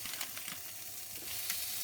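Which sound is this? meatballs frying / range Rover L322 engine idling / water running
meatballs frying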